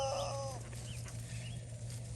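Chickens cluck softly, with a brief louder squawk at the start over a low constant hum, then quieter scattered clucks in the background.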